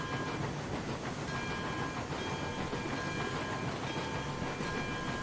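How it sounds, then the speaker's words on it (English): A Mogul steam locomotive in the video game Railroads Online runs steadily, with a continuous mechanical rumble and rail clatter, loud and close with no talk. "then we'll pull a log train with this Mogul"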